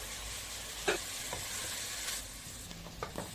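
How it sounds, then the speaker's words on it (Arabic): Onions fry with meat in a pan as they are stirred, producing a soft background sizzle with several distinct scraping strokes and clicks of the utensil, fairly quiet and without speech. "هنزل بقى بكل كميه البصل اللي معايا واقلبه كويس مع اللحمه"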